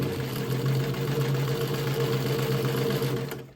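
Sewing machine stitching a bag zipper on a crossbody bag, a loud, steady, close whirring hum of rapid stitches running continuously before stopping abruptly at the end.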